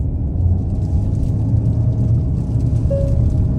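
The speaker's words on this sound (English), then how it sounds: "We'll throw it through these turns on this roundabout," A 2023 Hyundai Santa Fe Hybrid SEL Premium taken briskly through roundabout turns, heard from inside as a steady, loud low rumble of road and engine noise with no talking.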